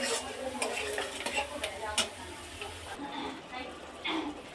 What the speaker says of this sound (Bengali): এবার আদা, রসুন আর টমেটো বাটাটা এর মধ্যে দিয়ে একটু কষিয়ে নেব